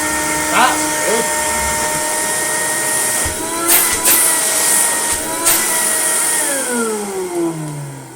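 A small bench vacuum cleaner running with a fresh bag, a steady whining motor hum with a few brief bumps and bursts, then winding down as the pitch falls at the end; a voice talks over it.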